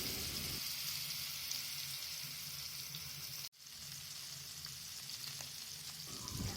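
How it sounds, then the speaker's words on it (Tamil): Marinated fish fries in coconut oil in a kadai, giving a continuous close hiss and crackle of sizzling oil. There is a brief silent cut midway, and the sizzle continues without any voices. "இப்போ ஒரு கடாயில் 1/2 கப் தேங்காய் எண்ணெய் சேர்த்து நம்ம மேரினேட் பண்ணி வச்சுருக்க மீனை எல்லாம் பொரித்து எடுத்துடலாம்."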